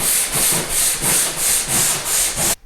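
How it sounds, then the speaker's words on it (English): A hard-bristle tire brush scrubs the fabric headliner of a VW Jetta MK6, making close, rhythmic rasping strokes, about seven in a row, with no one speaking. "this is just a regular tire brush, like a hard bristle tire brush, and it's working excellent."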